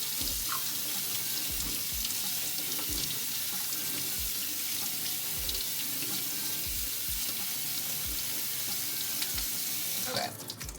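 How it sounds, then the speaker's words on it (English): Cold tap water gushes steadily into a kitchen sink over cooked pasta, a loud, continuous splashing rush that lasts throughout and is briefly joined by a louder splash near the end. "I'm gonna run some cold water over to"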